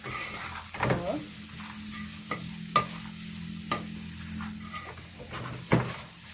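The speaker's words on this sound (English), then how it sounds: "I'll just keep stirring. So the heat will cook the onion, the tomato." Onion and tomato sizzle gently in a pan while being stirred for an African dish, steady frying hiss punctuated by several sharp spoon scrapes and knocks against the pot.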